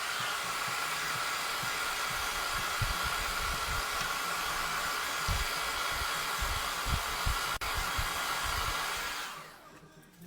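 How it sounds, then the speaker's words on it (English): A hair dryer blows steadily for about nine seconds, a close, even rushing whoosh, and then switches off near the end. "let's get that hair dryer again so we can put it back down."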